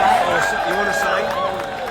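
A protest rally crowd in Springfield makes a loud, dense roar with a shouting voice carried over the top.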